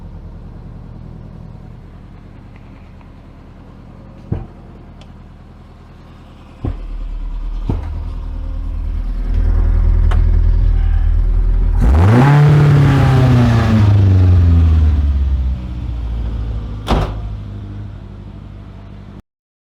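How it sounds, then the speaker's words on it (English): A Hillman Imp engine with a misfire revs up close and loud, climbing to a sustained rough roar and then falling back, with a few sharp knocks and clunks heard over a steady idle. "It would appear I've got some sort of misfire."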